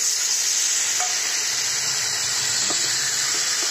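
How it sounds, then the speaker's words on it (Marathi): Steady sizzling hiss of tomato frying in an onion and garlic paste in a pan, with a few light clinks of stirring over the constant frying sound. "आता हे चांगला भाजला गेला, आता ह्याच्यामध्ये टोमॅटो टाकायचा।"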